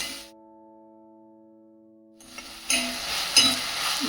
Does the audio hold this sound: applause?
no